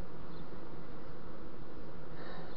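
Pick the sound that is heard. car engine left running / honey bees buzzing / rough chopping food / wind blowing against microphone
honey bees buzzing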